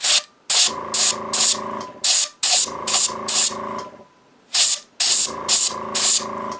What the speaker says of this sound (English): And you can see me pushing my air down the brush